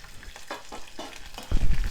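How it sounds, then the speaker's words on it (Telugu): Mustard seeds, cumin, green chillies and finely chopped onion frying in hot oil for multimillet upma, giving a steady close sizzle with light crackling pops that grows louder and heavier near the end. "ఆవాలు జీలకర్ర చక్కగా చిటపటలాడనివ్వాలి"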